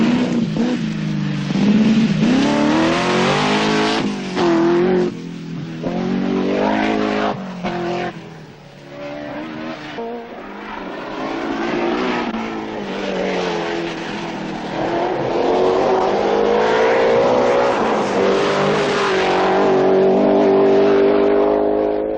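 A 1978 Manx Rally car drives a stage, its engine note rising and falling through revs and gear changes, with occasional tyre noise. The car is loud and close throughout, with no talk over it.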